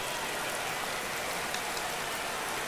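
Rain falls in the MotoGP 21 racing game, a constant close hiss of drops with no break and no voices.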